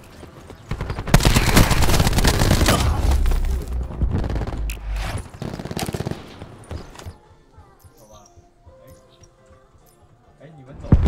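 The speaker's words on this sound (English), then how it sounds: "Throwing cluster grenade." Cluster grenade blasts and rapid gunfire from Black Ops 4 roar loudly for several seconds, a dense barrage of shots and booms that fades into quieter scattered game sounds and a final sharp burst.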